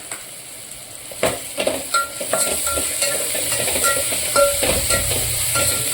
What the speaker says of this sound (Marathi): असा लालसर रंगावर आता आपला कांदा तळून झाला